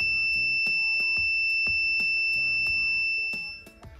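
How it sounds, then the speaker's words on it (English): An ESP32 home automation project's buzzer, set off by a gas sensor crossing its threshold, sounds a continuous steady high tone alongside a rhythmic percussive beat, loud and close before fading near the end. "the buzzer is the beeping"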